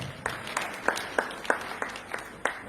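A small group's scattered applause for a participant at a women-in-tech event, a sparse run of separate claps with a few sharper ones standing out, fairly quiet.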